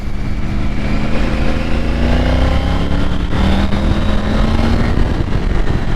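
Triumph 900 Rally Pro motorcycle engine droning steadily while riding on forest roads, a loud continuous hum with rising pitch as it accelerates, no voices.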